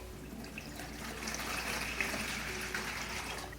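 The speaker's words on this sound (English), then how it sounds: "we're going to fill up with the water." Water pours into a pet cooling container filled from a jug alongside ice-cold ice packs, a steady faint, diffuse splashing stream running continuously without talk.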